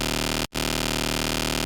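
A dense, sustained dubstep riddim synth bass drone made in Serum buzzes continuously, briefly cutting out for a split second before resuming at the same loud level.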